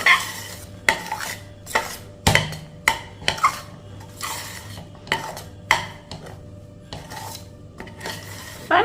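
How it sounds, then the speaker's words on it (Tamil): A thick ragi mixture is stirred in a pan over a medium-low simmer, with a spoon scraping the metal in steady, repeated strokes and clinks over a soft background hiss. "இதை நல்லா அப்படியே கிளறிடணும்"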